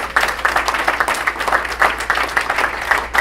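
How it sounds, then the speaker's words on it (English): Steady, dense applause from a large crowd at a political convention honoring the DC delegation, continuous rapid clapping throughout, loud and close. "Give them a big round of applause."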